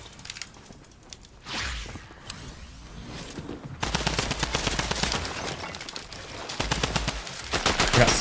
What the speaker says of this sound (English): I got sniped somehow.